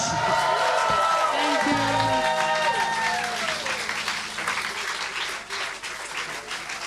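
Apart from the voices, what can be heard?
audience applause at a live festival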